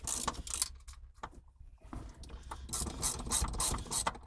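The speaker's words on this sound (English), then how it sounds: "I'm currently working this nut out right now," A hand ratchet works a nut loose on the shifter assembly of a third-generation Mitsubishi Eclipse during a short shifter install, giving rapid close clicking bursts that pause briefly and then resume, with no talking.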